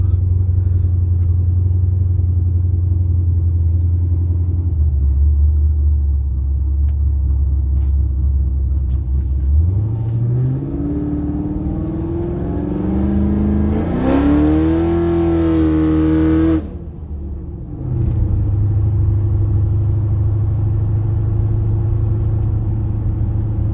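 A 2004-2006 Pontiac GTO with a 4200 stall converter cruises around town at half throttle, its loud, close engine rumble droning steadily, rising in pitch as it accelerates, then easing back to a low idle-like hum.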